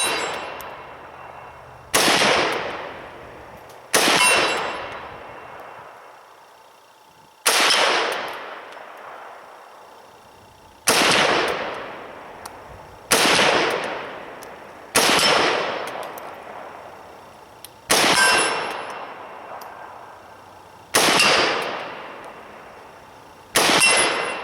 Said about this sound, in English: we're doing some off-handed shooting here, and we got some steel out there. See if we can ring it a little bit here at 60 yards.